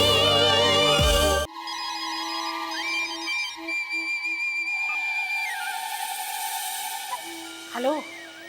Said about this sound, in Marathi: उचलत का नाही फोन